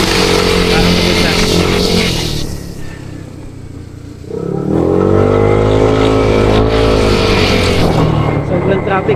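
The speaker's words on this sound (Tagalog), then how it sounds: "Sobrang traffic, napalpas na si Kuyo" Heavy road traffic in La Union province, Philippines: a dense, continuous roar of car and motorcycle engines revving and passing close by, with a brief lull midway and voices talking over it.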